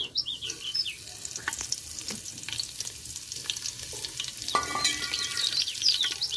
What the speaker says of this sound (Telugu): ఇంకా నూనె అయితే కాగింది లవంగాలు చెక్క జీలకర్ర